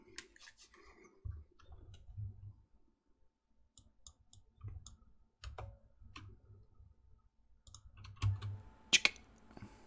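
Sparse, light clicks from a computer mouse, single and double taps spaced irregularly in a quiet room, with a sharper cluster near the end.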